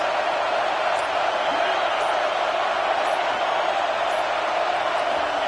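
A large stadium crowd in a college football video game during the Rose Bowl, Georgia versus Ohio State, roars as a steady, dense wall of noise throughout, with no clear breaks.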